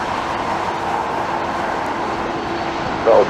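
Airplane taking off from Los Angeles airport, a loud, steady broadband engine roar sustained throughout with no voices.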